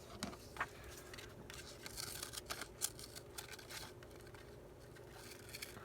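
Scissors cut a paper moth embellishment out of a craft page, making faint, close snipping and crisp paper rustles in an irregular series of small clicks.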